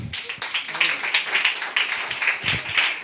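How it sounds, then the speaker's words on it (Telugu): Children at a school clap loudly together in a dense, continuous burst of claps that runs the whole time, with a bit of voice mixed in underneath. "గట్టిగా క్లాప్స్ కొట్టిన"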